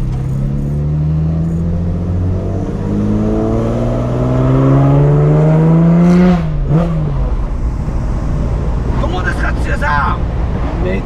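A 1972 Nissan Skyline GT-R (Hakosuka) engine runs with a steady, uneven idle and a brief rise in revs midway, heard close up under ongoing conversation between people.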